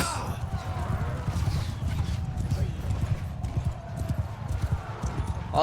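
Rapid rhythmic hoofbeats of a galloping horse in the game Mount & Blade II: Bannerlord, loud and continuous, with a busy game soundtrack and faint speech underneath.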